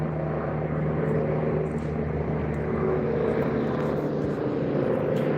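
A passing airliner, probably an Airbus A321neo, roars as a steady, broad engine drone at moderate distance, holding level throughout over a busy urban background.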